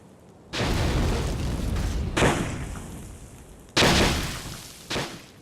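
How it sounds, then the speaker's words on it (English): Heavy booming impacts, three or four loud blasts with rumbling decay between them, like cannon fire battering stone. "the sound of cannonballs pounding against the castle walls must have been terrifying"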